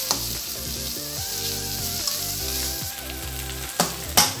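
Spicy Bandung-style tutug oncom fries in oil, a close steady sizzle with occasional stirring scrapes and soft music underneath, no talking.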